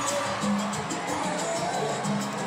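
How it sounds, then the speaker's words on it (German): Circus audience in a tent in Havana, Cuba, a dense, continuous crowd roar of applause and cheering, loud and steady without a break, with a voice narrating over it. "kommt das Publikum in Scharen, um der Crème de la Crème des kubanischen Zirkus zu applaudieren"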